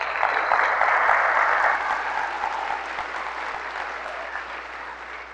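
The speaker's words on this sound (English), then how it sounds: "And a round of applause to them." Sustained audience applause at a 2019 Air Force conference session, a dense steady wash of many hands clapping that starts loud and tapers slightly over five seconds, with no talk over it.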